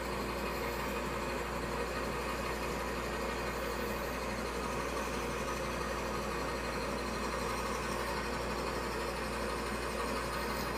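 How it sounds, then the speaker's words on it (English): A wood lathe runs at roughly 250 to 300 RPM while a Forstner bit is slowly cranked into the spinning workpiece, giving a constant loud mechanical drone with a steady hum throughout and no talking. "And gonna slowly crank it in. I have the lathe speed running about 250,"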